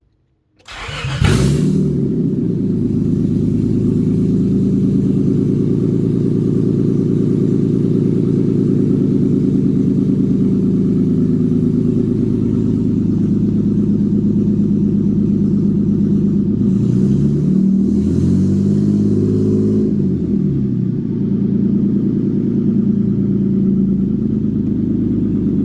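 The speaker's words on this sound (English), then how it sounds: "I filled it up with oil, and I started the car to see how it would sound." A project car's engine, just fitted with a new timing belt and filled with oil, cranks and catches, then settles into a loud, steady idle close by, with a brief rev near the end and no talking.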